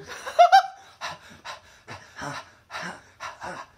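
A person pants heavily in short, uneven bursts of breath with pauses between them, close and fairly loud, including a couple of sharp voiced gasps near the start.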